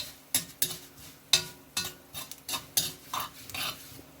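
A teaspoon of red chili goes into a sizzling pan of potato, sesame and honey mixture, with a spoon scraping and clinking against the metal in a steady series of close, distinct stirring strokes over a light fry.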